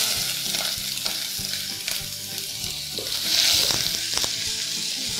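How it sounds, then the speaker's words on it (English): Garlic and onion saute in a pan with a steady, fairly loud sizzle while a utensil stirs and scrapes, leaving irregular clicks and knocks over the frying hiss. "So we're going to start off by sauteing some garlic and onion."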